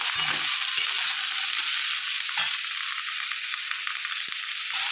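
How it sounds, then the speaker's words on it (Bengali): Bottle gourd paste and potato sizzle and fry in a pan with chopped onion, a steady close hiss with occasional stirring scrapes. "আমার এবারে লাউ বাটাটা আর আলুটা আমার একটু ভাজা ভাজা হয়ে গেছে"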